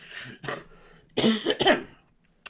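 A few sharp coughs close by, a short one first and then a louder cluster of two or three, separated by brief quiet pauses.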